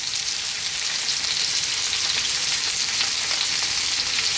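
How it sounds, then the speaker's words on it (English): Pumpkin with salt and garlic ginger paste fries over lively heat for a potato pumpkin curry, giving a dense, even, loud sizzle that runs on without a break and with no voices. "We're now going to add in our pumpkin, salt, and our garlic ginger paste."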